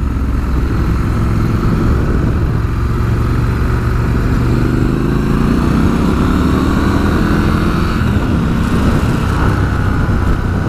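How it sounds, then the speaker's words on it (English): A 2019 Triumph Scrambler 1200 XE motorcycle rides along with a loud, continuous, thrumming exhaust note from up close, the engine pitch rising and falling with wind noise throughout. "Lovely thrumming exhaust note."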